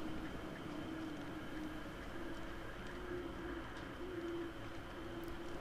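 Birds coo steadily in the video game Don't Starve, a soft, continuous pigeon-like warble repeating over a constant background hum, with no talking.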